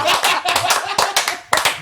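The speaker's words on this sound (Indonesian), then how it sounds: "Tepuk tangan." A small group claps in bursts during a cabaret-style podcast recording, several quick rounds of hand claps close to the microphone with brief gaps between them.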